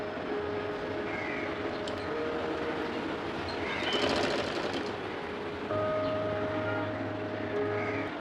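A sewing machine runs in bursts while stitching a neckline strip on a garment, with a steady mechanical whir and hum that rises and pauses. It is close and heard alone without talk.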